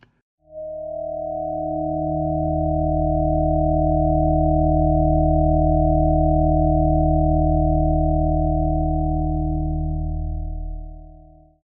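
A smooth synthesized tone made of stacked pure overtone partials swells in, the fundamental emerging after about 3 seconds, holds steady for several seconds, then fades out.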